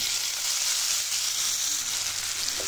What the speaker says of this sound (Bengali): এখন এই তেলের মধ্যে দিয়ে দিচ্ছি 1/2 কাপ পেঁয়াজ কুচি।